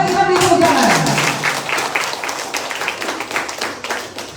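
Applause rises at a party school opening ceremony, starting under a fading voice and settling into dense rhythmic clapping from the gathered audience that gradually thins out.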